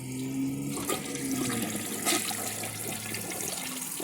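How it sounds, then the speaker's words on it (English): A Kohler Wellworth or 1974 American Standard Cadet toilet flushes with a rushing, gurgling swirl of water that stays fairly steady for several seconds, heard close in a small room with no talking. "I'm just going to give it a flush right now."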